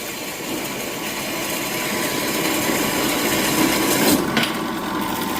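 A pipe end is being cut for a saddle weld, giving a steady, close, continuous grinding and sawing roar that swells slightly near the end.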